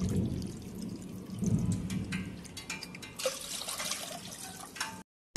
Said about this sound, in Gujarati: 3 વાર પાણી એડ કરી લઈએ.